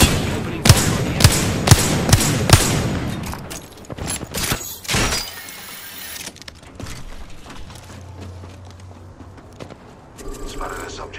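Apex Legends video game gunfire: a rapid series of sharp, loud shots in the first few seconds, then scattered softer bursts and impacts, with in-game voice callouts heard over the action.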